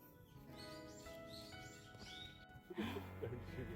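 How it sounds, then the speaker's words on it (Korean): Birds chirp and whistle in short repeated phrases outdoors on a cool day trip in Chungju, faint and somewhat distant, with a brief clatter and some talk near the end. "새소리도 들리고 시원하고 좋은데."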